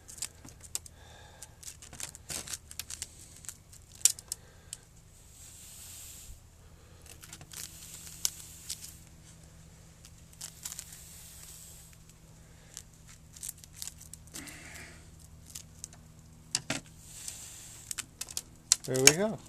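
Roots of a struggling shohin Premna bonsai being cut: scattered sharp snips, crackles and tearing clicks in irregular bursts over a quiet background, with brief moments of voice between them.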